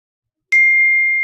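Mobile phone notification chime: a single bright ding that rings out cleanly and sustains evenly, fading only slightly before cutting off, alone with no talk.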